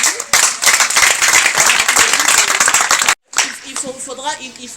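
Audience applauding at a women's month event held by an NGO in Haut-Katanga, dense clapping filling the room, a brief gap, then scattered claps and voices continuing.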